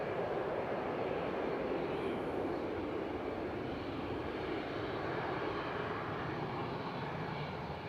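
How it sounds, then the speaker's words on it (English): EasyJet airliner departing Manchester Airport for Zurich, a broad steady roar of jet engines at takeoff power, distant and constant in breezy outdoor air. "As EasyJet CZUO departing to Zurich"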